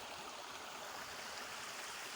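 A creek running high and swollen before a storm gives a dense, continuous close roar of rushing water, steady and unbroken throughout, with no talk.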